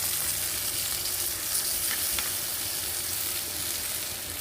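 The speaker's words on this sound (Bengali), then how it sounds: "চিনিটা দিয়ে আমি নাড়িয়ে নেব এটা" Mango chutney sizzles steadily in a pan as sugar is stirred in, a continuous close frying hiss with soft scraping, no voices.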